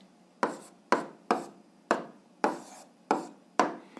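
Seven brisk pen strokes on paper, evenly spaced about half a second apart, each a short scratchy stroke fading quickly, close and fairly quiet with no talk, as an algebra answer is written down by hand.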